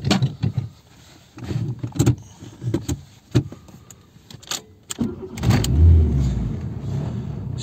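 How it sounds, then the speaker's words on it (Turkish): A few clicks and soft mechanical knocks come before a car engine cranks and catches, then settles into a low, steady idle rumble. The car's heater has been blowing cold air. "Şimdi çalıştırdım. Normal rölantide arkadaşlar."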